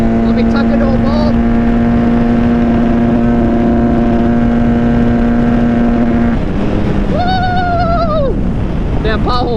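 A Honda CRF150RB dirt bike runs flat out in fifth gear down a straightaway, its engine a loud, steady, high drone amid wind buffeting, the pitch dropping and wavering near the end.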